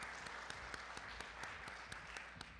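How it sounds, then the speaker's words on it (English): Quiet, steady applause from a school board debate forum audience thanking the candidates, a dense patter of clapping that holds evenly throughout. "Give them a round of applause."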